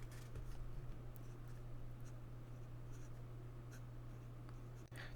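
Lamy 2022 Special Edition Strawberry fountain pen inked with Noodler's 54th writing in a book: quiet close nib scratches and short strokes over a steady low background hum, with a small tap near the end.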